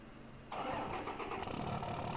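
A Mercedes-Benz 710 truck engine in the Farming Simulator 2015 game cranks and catches, then settles into a steady, loud mid-pitched idle with no voices.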